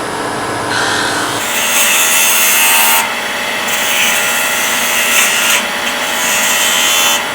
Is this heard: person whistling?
no